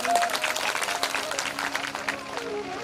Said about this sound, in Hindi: इनके लिए तालियां बजा देंगे।